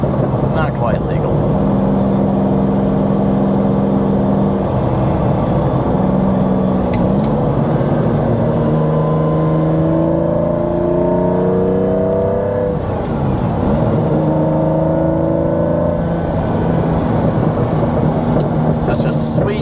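A Lamborghini Diablo V12 accelerating, its engine note rising in pitch through several climbs and sustained loud throughout, with someone talking over it.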